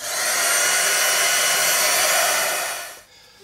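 A battery-powered dryer blows steadily on gesso spread across an art journal page, a loud continuous whir held close for about three seconds before it cuts off.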